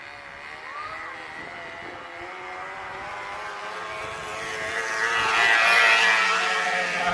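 A plastic bottle fixed to a bicycle imitates a V8 engine as the bike rolls down a road, giving a continuous buzzing drone that grows louder and brighter toward the end, with no talking.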